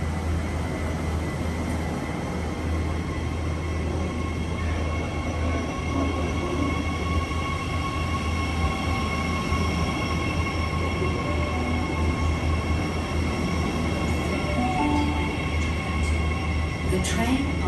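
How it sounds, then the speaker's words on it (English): A train runs through a Sydney station platform without stopping, a steady rolling rumble with faint wheel squeal, heard close and continuous for the whole stretch, with no talk over it. "The train on platform 21 does not stop at this platform."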